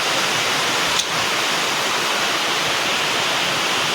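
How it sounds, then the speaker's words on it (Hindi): Dense, steady roaring downpour in Hamirpur fills the space evenly, a continuous wash of heavy rain with one brief faint tick. "बारिश ने ना पूरा जोर पकड़ लिया। अब हो रही झमाझम।"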